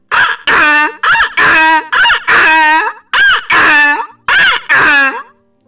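A human voice imitates a donkey braying, with loud, close, rhythmic bursts of harsh see-sawing calls repeated about ten times in quick succession.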